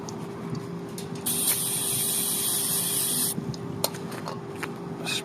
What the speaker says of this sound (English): Alright, so we'll brake clean.